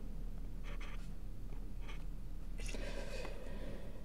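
Chalk or marker writing the wave operator on a board produces short scratchy strokes in a few quick bursts, close and fairly quiet over a steady background hum.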